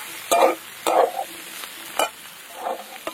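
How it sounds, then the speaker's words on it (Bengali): Fish air bladders fry in hot oil in a pan while being stirred, giving a steady sizzle broken by four or five louder scraping stirs spaced about half a second apart. "তেল পটকাগুলো কিন্তু এরকম ভালো করে ভেজে নিয়ে তারপরেই কিন্তু সবজিটা দিতে হবে"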